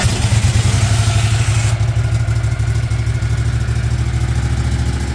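A 1977 Cushman Truckster's fuel-injected engine, starting from dead cold, settles into a steady idle with a loud, fast, rhythmic low-pitched thrum and some light mechanical clatter, close and constant throughout.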